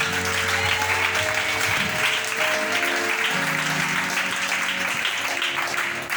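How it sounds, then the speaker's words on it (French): A church congregation applauds the Lord during a French-language sermon, a steady wash of many hands clapping throughout, loud and sustained, with faint sung or sustained tones underneath. "Tu peux acclamer le Seigneur pour moi"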